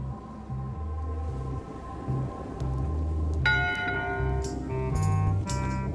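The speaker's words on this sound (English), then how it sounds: "Someone rang the bell." A bell rings out in the video game Return to Monkey Island, clear tonal strikes with ringing overtones over a low rhythmic musical rumble, no voices.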